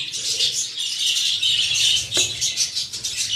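Budgerigars chirp and chatter in a busy, continuous stream of high warbling notes, close by, with a faint scrape or rustle partway through and no talking.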